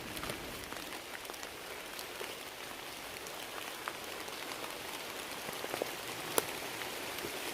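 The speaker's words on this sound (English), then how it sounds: "It keeps absolutely pelting." Heavy rain pelts steadily on a Zephyros 1 tent during a wild camping storm, a dense continuous patter with occasional sharper drops close by and no voices.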